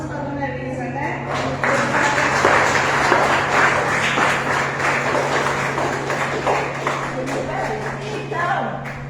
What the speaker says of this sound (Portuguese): Palmas para a dona Elisa, né?